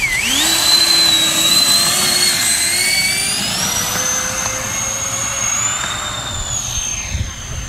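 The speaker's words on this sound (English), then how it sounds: "this is one of the heaviest 70mm jets I've ever flown" FMS A-10 Warthog V2 radio-controlled jet with 70mm electric ducted fans, spooling up to a loud, steady high-pitched whine with rising tones that hold close and constant, then shift slightly in pitch as it rolls.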